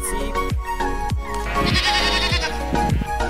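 Repeated bleats from a white toy sheep, loud and close, several short wavering calls in a row with no talking over them.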